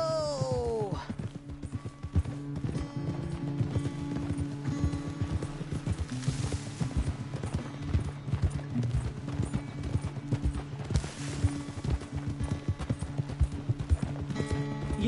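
Video game horse hooves in Red Dead Redemption 2: steady clip-clop at a quick, rhythmic gait, close and continuous, with a brief whinny near the start.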